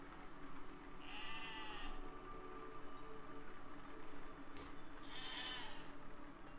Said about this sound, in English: Oh god, another sheep.